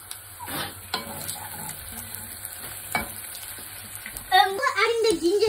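Green chilies hit onions frying in hot oil, giving a soft continuous sizzle with light stirring. A louder, bubbling burst comes near the end, and no voice is heard.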